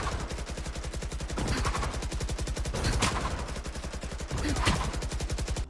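Rapid automatic gunfire from Valorant, enemies shooting in steady dense bursts that run nearly the whole time, loud and close with brief swells in intensity.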